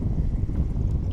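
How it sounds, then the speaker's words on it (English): Steady low wind rumbles and buffets the microphone on Bartlett Lake during boat fishing, a continuous close blustery roar with no other distinct sounds. "this wind is killing me. I've been fighting it all morning."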